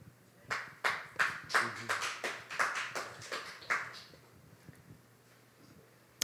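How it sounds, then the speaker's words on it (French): Scattered hand claps come from a small group at a French-language discussion on food sovereignty, a quick run of sharp irregular claps that thins out and fades into quiet room tone. "On l'a senti dans ton applaudissement."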